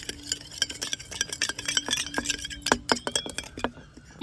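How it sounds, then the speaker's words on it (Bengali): Water is splashed onto powdered alum and mixed with a spoon in a bowl, giving steady rapid scraping and clinking strokes close by, with no voices. "এবারে যে ফিটকিরি আমি এখানে ডাস্ট করে নিয়েছি, অল্প করে জল দিয়ে দেব।"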